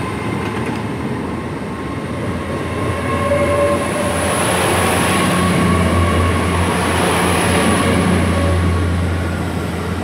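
A Class 800 train passing through Bridgend station, a loud steady rumble and roar of wheels and engine with a faint high whine, sustained throughout with no voices.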